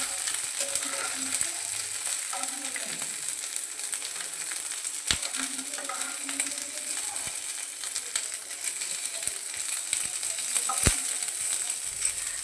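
Cashews and raisins fry in oil over a medium flame for basanti pulao, giving a soft, continuous sizzle with scattered small crackles and a few sharp clicks.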